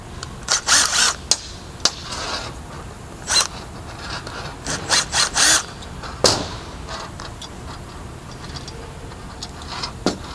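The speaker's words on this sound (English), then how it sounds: "I'm going to take off the ball stop. It's done with the Phillips screwdriver." A Phillips screwdriver removes the ball stop from a hose reel, making short, close, scratchy rasping bursts and small clicks in an irregular rhythm against a quiet background.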